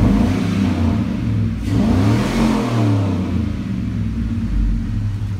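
A Chevrolet Silverado 1500 truck's 5.3-litre LS LM7 V8 engine with 118,000 miles idles with a deep throaty rumble, then revs up and settles back, loud and close, with no talk.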